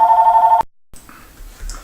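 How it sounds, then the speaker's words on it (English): A telephone rings with a loud, pulsing electronic trill that cuts off abruptly, followed by a brief silence and faint room noise. "the phone just rang"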